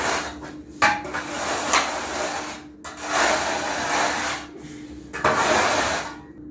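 A metal scraper rasps mortar snots off a plastered wall in repeated close strokes, each a coarse scratching sweep separated by brief pauses and sharp knocks.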